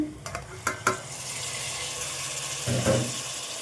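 Bottle gourd curry vegetables fry in a pan with a steady low sizzle, while a few stirring scrapes and knocks come early and a short clatter sounds near the end, with no talking.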